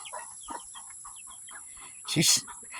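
Hens clucking in a backyard coop, a flock with many birds molting, their short clucks repeating near and fairly loud, with one louder burst of squawking toward the end.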